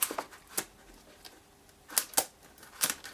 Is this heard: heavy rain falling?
no